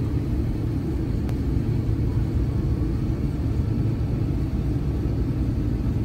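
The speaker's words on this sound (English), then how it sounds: "We are touching down at Davao." A passenger airliner touching down on the runway produces a steady, loud, broadband roar and rumble that fills the whole stretch with no breaks and no talking.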